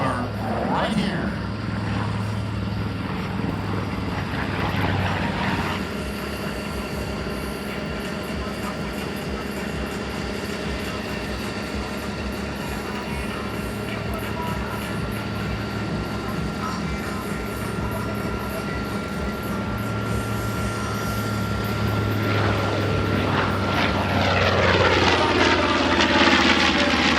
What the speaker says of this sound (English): The crew will show you the business side of the Mitchell bomber right here.